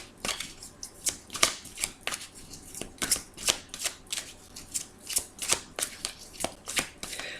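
Fairy tarot cards being shuffled by hand, a steady run of crisp riffling and slapping card sounds, close and continuous with no talk.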